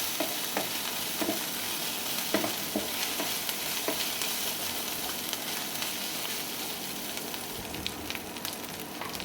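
Ginger garlic paste and turmeric powder fry in hot oil for an eggplant and egg dish, a constant close-up crackling sizzle with occasional stirring scrapes and no voices.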